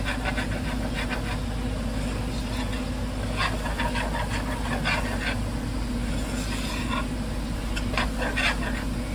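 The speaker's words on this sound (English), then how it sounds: "That noise y'all hearing in the background, we got a big box fan going on." A big box fan runs steadily in the background, a constant broadband whoosh with a low hum and no break, medium-loud and unchanging.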